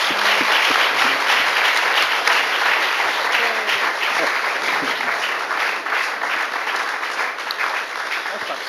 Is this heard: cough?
no